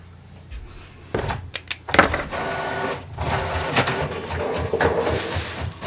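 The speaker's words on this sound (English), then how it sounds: "I'm going to hit print. So now it's coming out." A desktop printer feeds and prints an embroidery design page, starting with a few sharp mechanical clunks followed by a steady whirring run with rhythmic ticks.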